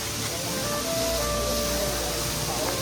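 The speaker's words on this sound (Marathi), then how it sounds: "धबधबा" A waterfall at Raigad fort gives a steady, dense hiss of falling water, continuous and fairly loud, with faint tonal hum and a voice briefly audible beneath.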